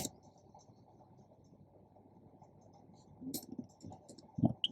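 A few faint, sparse keystrokes on a computer keyboard click over quiet background hiss, with a short burst near the end.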